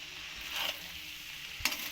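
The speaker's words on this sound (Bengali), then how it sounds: "এখন আমরা পাস্তাটাকে এর মধ্যে ঢেলে দিলাম। এখন আমরা পাস্তাটাকে মিলিয়ে নেব।" Pasta being stirred into sauce in a pan for a chicken pasta dish, a soft steady sizzle with a couple of brief scraping stirs, close by, no talking.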